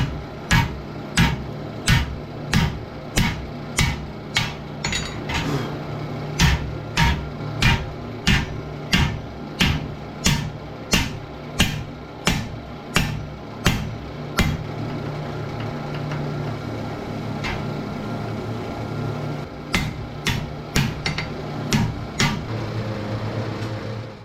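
Hammer blows forging a round tenon on hot steel for a jib crane, a steady series of sharp, loud ringing strikes in quick rhythm, pausing near the end before a few more blows, over a low background hum.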